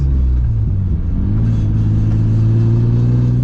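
A Nissan S14 accelerates out of a turn, its engine droning loud and close, with the pitch climbing steadily as the revs build.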